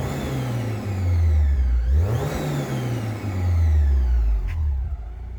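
A Mazda MX-5 Miata NC fitted with a Rotrex centrifugal supercharger revs up twice, its engine rising to a loud, whirring peak and sliding back down to idle each time, close and without talk.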